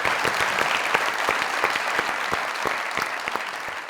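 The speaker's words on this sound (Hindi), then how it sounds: "तालियां अस्मा जी।" Studio audience on a Pakistani comedy talk show applauds steadily, a dense continuous wash of clapping with sharper individual claps punctuating it throughout, loud and sustained with no speech over it.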